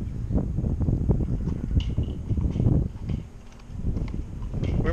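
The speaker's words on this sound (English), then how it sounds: "Still windy here." Steady low rumbling wind buffeting the microphone, gusting and easing in waves, with a few faint knocks in the background.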